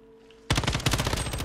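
A sudden burst of rapid automatic gunfire in Call of Duty: Modern Warfare (2019) cuts in after a quiet moment, loud and close, continuing as dense rattling shots.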